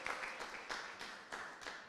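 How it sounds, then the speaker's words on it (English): A small group at a Rotary Club induction ceremony claps, with soft, fairly quiet applause rising in several brief swells and no speech over it. "Let's give a clap to Abdi."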